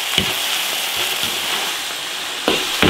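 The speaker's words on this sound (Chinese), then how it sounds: "芹菜、香菜，加调料炒香，把香味儿炒出来" Celery, cilantro and seasonings stir-fry in an iron wok with a dense, steady sizzle, punctuated by a few sharp spatula scrapes and clanks.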